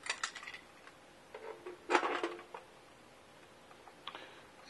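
A lid clunks and clicks into place on a plastic homebrew fermenting vessel holding a high-malt hoppy imperial stout, giving a few close, sharp knocks with a cluster of rattling clicks in the middle.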